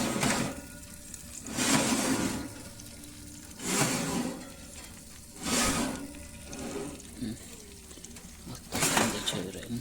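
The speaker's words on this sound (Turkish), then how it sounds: "Görüyorsunuz şeylerimiz de pişmeye başladı. Sesini duyuyorsunuzdur." Steady sizzling and crackling of village chicken cooking on a wood stove, with periodic louder whooshing swells every couple of seconds over a constant frying hiss.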